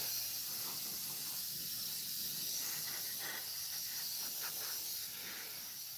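An airbrush sprays a third coat of paint onto a model aircraft wing, giving a steady, close airy hiss that runs unbroken throughout.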